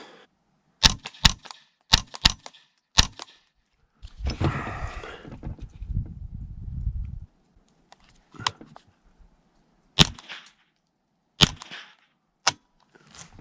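Suppressed Ruger rifle firing subsonic Aguila ammunition: a series of sharp, muffled cracks in irregular succession, with a stretch of rustling handling noise between shots and a few more spaced reports afterward.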